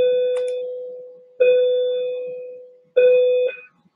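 A bell sound effect rings three times inside a Scratch pinball game, each a clear bright electronic ding with a slowly fading ring, spaced about a second and a half apart, with no one talking over it.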